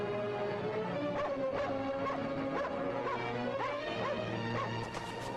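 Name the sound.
dog barking and whimpering on a ship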